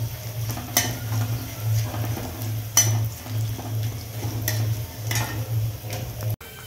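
Peanuts being stirred and mixed in a cooking pan for homemade matki bhaji, with a steady scraping and sizzling texture, periodic sharp ticks of the spoon against the pan, and a low hum underneath.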